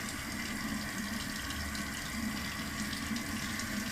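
Water runs steadily from a household tap into a sink while waiting for it to warm, a continuous even splashing hiss at moderate, fairly soft level with no talk.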